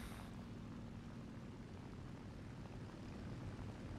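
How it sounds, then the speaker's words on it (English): World War II video game aircraft, a German plane in air combat, gives a faint, steady propeller engine drone with no voices. "there's a plane up on our C-202"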